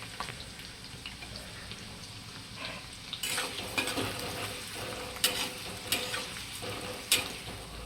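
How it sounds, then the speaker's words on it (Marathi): Finely chopped small onion frying in hot oil until reddish, a steady low sizzle with occasional stirring scrapes and utensil clinks against the pan, close by. "आणि आता एक बारीक चिरलेला छोटासा कांदा टाकून घेते काढून घ्यायचा आहे लाल होईपर्यंत"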